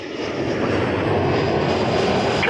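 A jet airliner roars at Toronto Pearson airport, a steady, loud broadband engine rumble that swells slightly and holds without pause across the short stretch.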